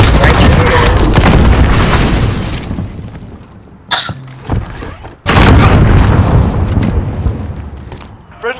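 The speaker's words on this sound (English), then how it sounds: "Hold for detonation." Loud booming bomb detonation in a Search and Destroy round of a shooter video game, a heavy sustained roar that drops off, then a second sharp blast with rumbling debris afterward.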